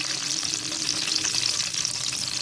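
Onions fry in hot oil in a kadai for ragda, a constant close crackling sizzle that carries evenly through the short stretch with no voices.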